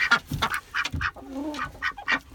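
Backyard ducks quacking nearby in a series of short, loud, nasal calls in an uneven rhythm, with a brief softer chattering murmur in between.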